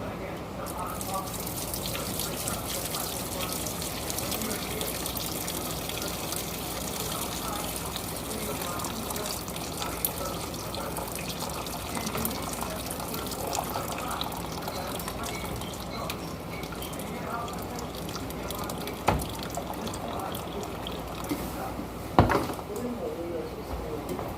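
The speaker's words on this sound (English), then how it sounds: "Go ahead and drain all my water." Steady splashing and trickling of pasta water draining out of a pot, continuous and fairly close, with a couple of sharp clanks near the end.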